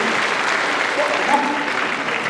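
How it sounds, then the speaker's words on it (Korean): Audience applause at a 2024 Nonsan city town-hall meeting with the mayor, a steady dense clapping that holds evenly for the whole stretch, moderately loud and close. "큰 박수 한번 다시 드리죠"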